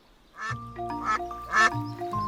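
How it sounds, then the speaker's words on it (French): A cartoon duck quacks several times in short nasal bursts, fairly close and clear, with no talk over it. "Ah, un canard!"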